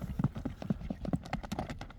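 Horse hooves clip-clop in a quick, steady rhythm of close, distinct strikes, with a faint murmur of voices underneath.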